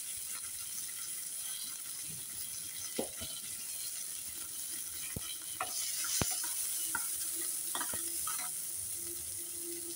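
Cumin, mustard seeds, curry leaves and green chillies sizzle in a little oil, a steady faint hiss with scattered sharp pops and crackles, and no talk.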